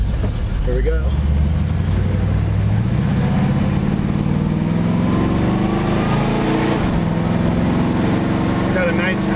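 A 1972 Camaro accelerates down the road, its engine note climbing steadily through a gear, dropping at a shift, then pulling again, loud and close from inside the car, with a voice over it.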